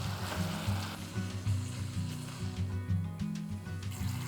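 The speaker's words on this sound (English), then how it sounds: "Toss it in the skillet and let it sizzle." Ground beef seasoned with salt, black pepper and paprika sizzling in a skillet, a close, steady crackling fry with low rumbling bursts and light stirring, no voices.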